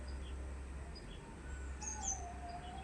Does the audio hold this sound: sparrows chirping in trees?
yes